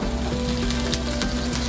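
Wild salmon and peppers sizzle steadily on a hot Blackstone griddle with the lids off, a close, even frying hiss with small crackles and no talk.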